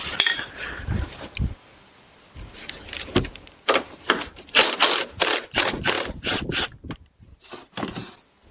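Ratchet working loose the strut mounting bolts on a Buick Lucerne, a run of sharp, close metallic clicks in uneven bursts with short pauses, growing busier toward the end.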